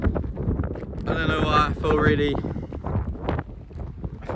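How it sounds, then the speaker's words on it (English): Strong wind buffets a microphone outdoors, producing low rumbling gusts that rise and fall while someone talks over it. "It's a windy one today."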